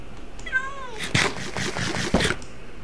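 Cats in a Troll Craft video game give a couple of weird, drawn-out meows, close and clear, mixed with bursts of other game noise and no clear talking.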